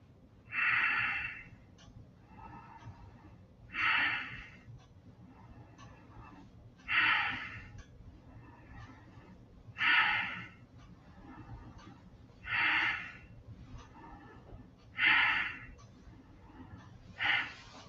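Deep, slow breaths drawn in and let out during a guided breathing exercise, seven broad airy pulses spaced about every three seconds, close and fairly loud over a quiet low hum.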